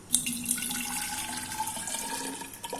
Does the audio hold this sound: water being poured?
yes